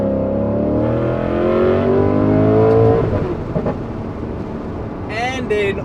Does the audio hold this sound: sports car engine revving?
yes